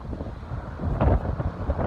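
Rain and strong wind outdoors in stormy weather, a steady rumbling wash of wind buffeting with a louder gust surge midway, close and continuous with no talk.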